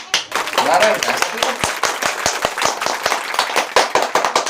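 Several people clap in a quick, uneven, close rhythm at the start of an Indonesian talk show segment, loud and sharp, with voices mixed in underneath.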